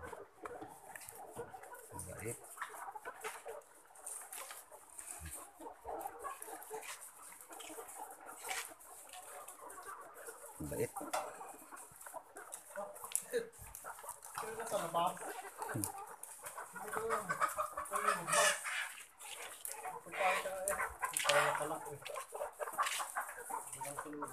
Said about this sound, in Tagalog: Naramdam na sila na may patuka na sila kaya yan, tumutuka na.